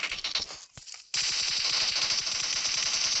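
Rapid automatic gunfire in the PUBG Mobile video game rattles close and loud, with a brief burst, a short pause, then a sustained fast stream of shots lasting about two seconds.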